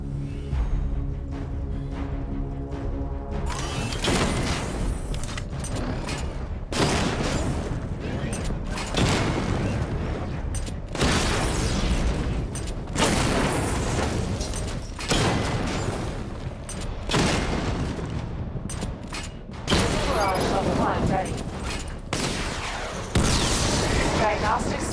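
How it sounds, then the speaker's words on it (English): Weapon fire and missile barrage explosions from the Batmobile in Batman: Arkham Knight repeat as loud booming bursts and rattling gunfire in cycles, with a voice speaking in between. "Destroy targets to charge up weapon energy and activate missile barrage."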